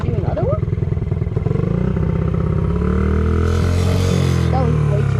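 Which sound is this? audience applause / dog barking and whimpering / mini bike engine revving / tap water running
mini bike engine revving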